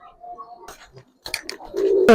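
Giribaz pigeons coo at a loft: a low, soft cooing call opens the clip, then brief rustles and clatter, and a louder throaty coo swells near the end, close by.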